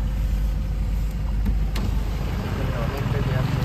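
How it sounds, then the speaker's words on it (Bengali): Cars creep slowly through a traffic jam at a toll gate on the road from Darjeeling, giving a steady low engine rumble with idling vehicles close by and someone talking over it throughout. "অনেকটা জ্যাম রয়েছে, আস্তে আস্তে গাড়িগুলো পাস করছে।"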